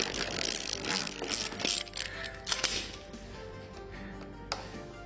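A plastic valve is screwed into a pipe, giving a close, faint run of ratcheting clicks and small mechanical taps, with no talking.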